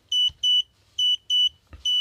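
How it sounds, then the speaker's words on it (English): A digital clock kit from eBay beeps during setup: five short, bright electronic tones in an uneven sequence, close and clean, with soft knocks in between. "approximately 5 seconds later, it beeps"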